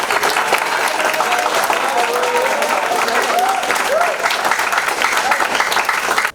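An audience claps steadily at a college gathering, a dense wash of hands lasting several seconds before cutting off abruptly, with a voice audible briefly over it.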